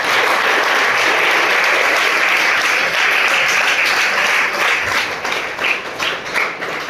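An audience claps in sustained, dense applause, loud and continuous, thinning slightly into scattered claps toward the end.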